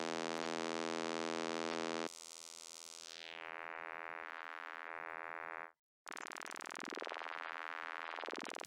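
Albino 3 synthesizer with filter FM on oscillator 2 driven by a sine wave: a steady buzzing tone, then a sustained tone whose filter sweeps downward, a brief silence, then a bright, warbling modulated tone, faint overall and without talk.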